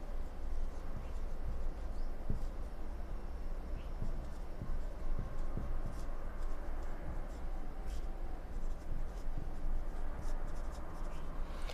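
Pen or chalk scratching on a board in a biology classroom, with faint short strokes and taps over a steady room hum.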